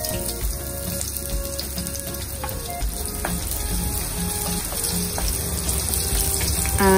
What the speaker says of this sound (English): Now I'm going to add olive oil and saute the onion.